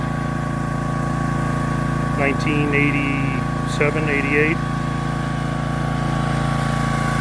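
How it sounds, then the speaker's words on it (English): An old welder owned since about 1987 hums steadily in the background on a rural property, a constant drone under a man's speech, with a little brief machine whine from nearby. "That noise is my welder"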